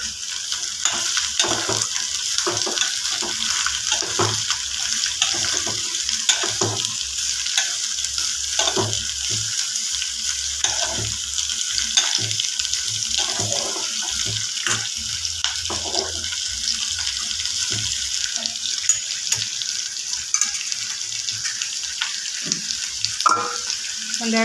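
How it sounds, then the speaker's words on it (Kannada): Chopped onions fry in hot oil for a moong dal dosa filling, a loud, even sizzle with rapid crackles and occasional spatula scrapes running throughout, close up and without voices. "ಈರುಳ್ಳಿ ಹಾಕಿದ ಕೂಡಲೇ 1-2 ನಿಮಿಷ ಫ್ರೈ ಆಗಲಿ ಎಣ್ಣೆಯಲ್ಲಿ."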